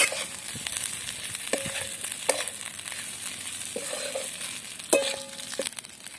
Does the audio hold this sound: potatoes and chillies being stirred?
yes